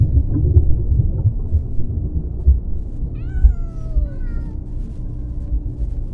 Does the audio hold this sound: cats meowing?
yes